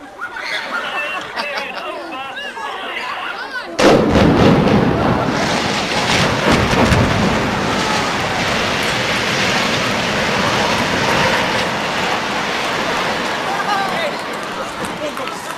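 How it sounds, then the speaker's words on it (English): Explosive blowdown demolition of reinforced concrete tower blocks in Glasgow: after a few seconds of background chatter, a sudden loud blast erupts into a long, rolling roar of collapsing structure and debris that rumbles on for over ten seconds, with voices faintly beneath. "Different sort of explosion you saw on that one, a different choice of blasting technique"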